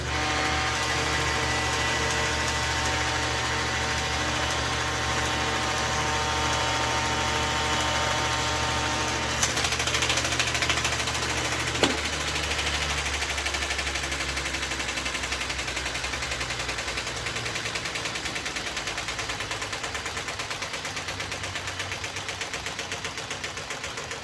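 Grinding wheels work the concave area of a handmade knife, a loud, continuous, buzzing grind with a steady motor drone, a couple of sharp ticks midway and the pitch shifting as the pressure changes.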